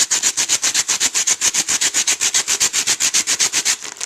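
Rapid, steady back-and-forth scraping of two styrofoam blocks rubbed together like sanding, a loud squeaky rasping rhythm repeating about eight times per second.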